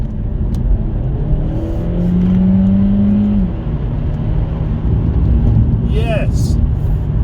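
A 2023 Seat Leon plug-in hybrid accelerates from inside the cabin, a steady road and engine hum with a rising tonal whine as it picks up speed, while a person speaks over it.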